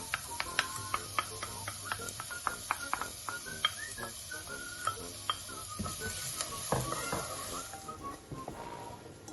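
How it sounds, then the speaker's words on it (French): Diced onions sweat gently in a thin drizzle of olive oil, giving a quiet, soft sizzle broken by frequent light utensil clicks and taps against the pan, with no talking. "on cuit les oignons en premier dans un petit filet d'huile d'olive. On va juste les suer."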